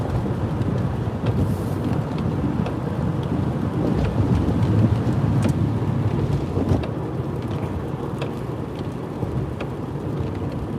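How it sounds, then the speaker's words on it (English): Heavy rain drums steadily on a vehicle driving a highway during winter storm Izzy, a dense continuous roar with scattered louder drops, close and unbroken, no voices. "Seems like we're running into nothing but rain here."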